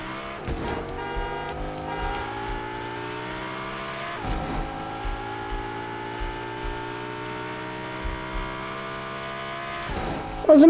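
A car's engine drones steadily while being driven in the video game Fortnite, a constant sustained hum with pitch shifts at a few points and a brief louder burst near the end.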